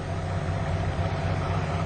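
A VW Golf II GTI with the 139 hp 1.8-litre 16V DOHC engine idles steadily, a close, even low rumble that holds constant throughout with no voices.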